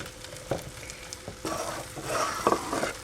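Tomato sauce with lime juice is stirred in a pan over the heat, with faint scraping strokes and soft sizzling, quiet and close with no talking.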